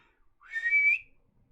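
A human voice imitates a giant's whistle with a single rising, sustained whistle of about half a second, clear and alone.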